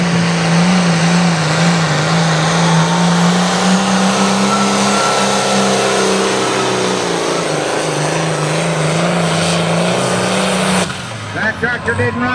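Loud, sustained roar of a hot farm class tractor with a John Deere rear end straining under load in a tractor pull, droning steadily before cutting off abruptly near the end.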